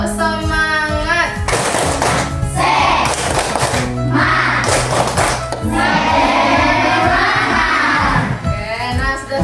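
Fifth-grade schoolchildren in a classroom clap a rhythmic spirit chant together, with bursts of clapping mixed with their chanting voices, loud and close, filling the whole stretch.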